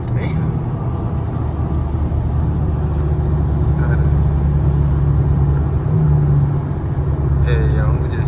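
A Dodge SRT8 Challenger cruises along, giving a steady, loud low rumble of engine and road noise from inside the cabin, with a few brief higher noises breaking through.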